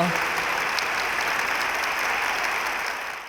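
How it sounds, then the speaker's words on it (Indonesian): Loud applause from a large audience at a campus talk-show event, a steady dense wash of clapping that holds even throughout and fades slightly at the end, with no speech over it. "ya tepuk tangan yang kencang"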